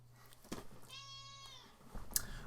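A pet cat gives a single clear, drawn-out meow close by in a quiet indoor room, followed by a few faint handling noises.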